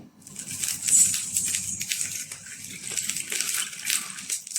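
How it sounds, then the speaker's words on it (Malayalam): Quarter cup of vinegar poured into a hot pan while making instant mango pickle, giving a spattery, crackling hiss with rapid pattering bursts that rises quickly and keeps fizzing close by, with no voices. "സെയിം പാനിൽ തന്നെ നമുക്ക് കാൽ കപ്പ് വിനാഗിരി ഒഴിച്ചു കൊടുക്കുക"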